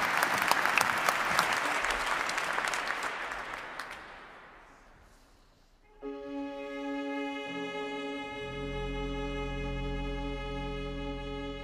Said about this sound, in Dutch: En dan een heel warm applaus voor het Utrecht Studentenconcert.